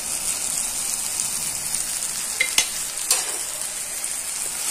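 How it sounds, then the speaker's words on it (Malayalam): Ground spices, including black pepper, fennel and fenugreek powders, are stir-fried in a pan for a fish curry. A steady, loud sizzling hiss runs throughout, with a few sharp clicks of the spoon scraping midway. "ഒക്കെ കൂട്ടിയിട്ട് അതിൻ്റെ പച്ചമണം പോണ വരെ ഇളക്കി കൊടുക്കാം."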